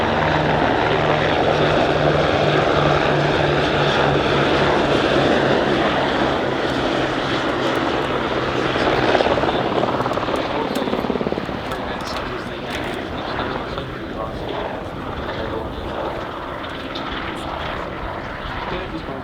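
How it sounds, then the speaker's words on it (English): A Royal Australian Navy Eurocopter AS350 Bravo Squirrel helicopter flies at the Point Cook airshow. A loud, steady engine roar and rotor drone continue throughout and ease slightly about halfway, with a public-address voice faintly underneath. "today we're flying the Eurocopter AS350 Bravo"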